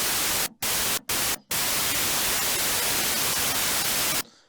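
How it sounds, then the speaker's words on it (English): Loud, steady hiss of white noise from a Korg MS-20 FS synthesizer's noise generator, broken by three brief gaps near the start, then running continuously before cutting off near the end. "this is a white noise generator."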